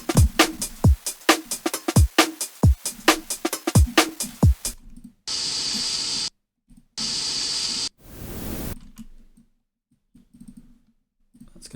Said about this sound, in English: Let's use a different noise sample.